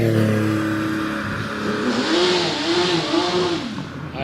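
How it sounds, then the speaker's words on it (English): A Porsche race car climbs a hillclimb course at Doune, its engine revving loud and close with rising and falling pitch through the gears, a steady roar that holds for the whole stretch. "And now we have 2 Porsches on the hill."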